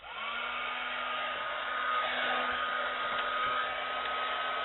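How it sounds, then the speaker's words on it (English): A heat embossing tool blows hot air in a steady, loud, unbroken whoosh with a faint whine, running alone without pause throughout. "make sure your heat tool's all the way heated up"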